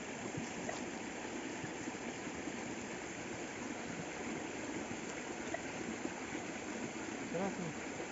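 A small creek runs in Brazilian woodland, a steady, even rush of flowing water close by, with faint voices now and then in the background.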